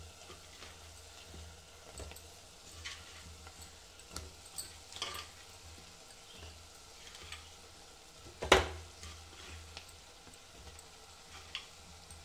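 Taro pieces fry in a pan with a soft, steady sizzle and light stirring taps, punctuated by one sharp loud clatter midway, otherwise quiet and close with no voices.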